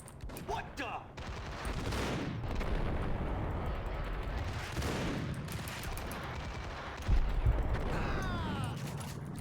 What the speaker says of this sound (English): I just heard a shotgun go off. And it wasn't mine.